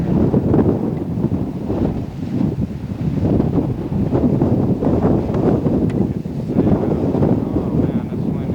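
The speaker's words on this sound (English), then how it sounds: "Oh man, this wind is getting bad." Strong gusty wind buffets an outdoor microphone in a loud, continuous roar, with a person walking out from a store toward a road; no clear speech stands out over the steady rush.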